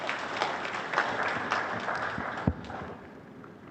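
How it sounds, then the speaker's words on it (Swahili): An audience at the opening ceremony of a five-star hotel in Arusha claps in a dense, continuous patter that gradually thins toward the end, with a sharp louder clap standing out partway through. "Naomba tupige makofi mengi sana mabibi na bwana."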